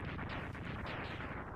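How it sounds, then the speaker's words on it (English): Blue explosions burst in the Mega Man X2 video game, a dense, continuous roar of rapid booming blasts that stays loud and full throughout with no voices over it. "I like the blue explosions."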